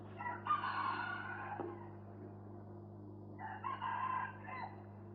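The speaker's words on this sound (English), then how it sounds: "The roosters are crowing," Two roosters crow in turn, each a loud drawn-out cock-a-doodle-doo, one near the start and another a few seconds later, over a low steady hum.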